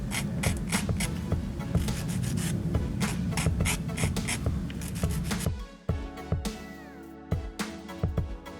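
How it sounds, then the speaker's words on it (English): A nail file rasps quickly back and forth across the tip of a press-on nail, a close, continuous scratchy rubbing that stops partway, followed by a few soft taps and handling sounds. "go ahead and file off that little nub that's at the tip here"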